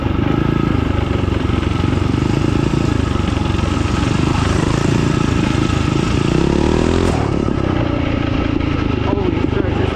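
A $50 mini bike's small engine drones steadily and loudly throughout a ride, with wind and clatter mixed in and a rider talking over it.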